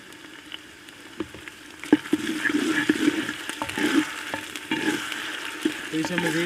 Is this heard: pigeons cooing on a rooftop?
no